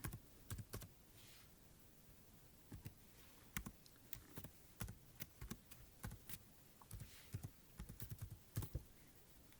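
Quiet typing on a computer keyboard while entering text into circuit simulation software, with irregular bursts of light key clicks and short pauses between words, close and alone.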